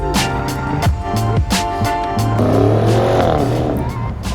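BMW at a crowded car meet, engine revving and rising in pitch with a tire chirp, loud and close amid surrounding crowd noise and sharp pops or claps, the engine swelling in the second half.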